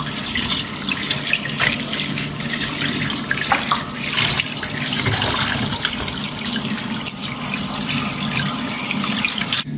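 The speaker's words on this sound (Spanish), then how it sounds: "Ahora lo vamos a lavar. Lo vamos a lavar para quitarle toda la tierrita." Vegetables are rinsed under a running kitchen tap to wash off soil, a loud, continuous splashing flow of water close by with some handling sounds, no talk.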